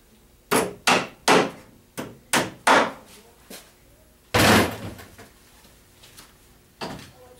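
Hammer driving 1 inch number 16 wire nails into a door latch template on a 1 3/8 inch door, loud close sharp knocks in quick groups with short pauses between, no talk.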